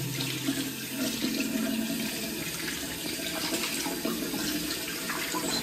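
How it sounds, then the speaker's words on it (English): Continuous rushing of tap water running into a container, steady and fairly close, with a faint low hum underneath. "I'm filling it up with tap"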